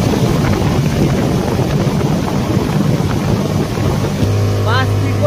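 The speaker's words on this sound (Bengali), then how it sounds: "এই যে স্পিড বোট" A speedboat runs across Patratu Lake with a steady, loud roar of engine and rushing water, buffeted by wind noise; voices call out over it, and near the end a lower engine hum comes in with a brief rising tone.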